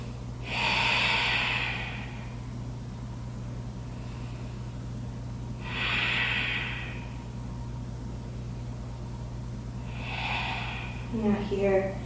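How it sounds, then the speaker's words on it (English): Three rounds of deep yoga breathing during a Hatha session, each a strong audible exhale a few seconds apart, close and fairly loud over a steady low hum. "We'll take 3 rounds of breath."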